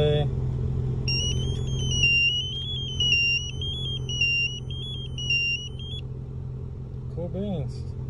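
A car engine idles with a steady low hum after starting from a Scytek A4.2W remote starter, while warbling electronic chirps sound above it and a person talks nearby.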